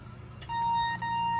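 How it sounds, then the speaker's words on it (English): A shrill smoke detector alarm tone, triggered by its test button, comes on abruptly and sounds continuously, steady and piercing, with a brief dip partway through. "So I'm going to press this test button on the smoke detector up here"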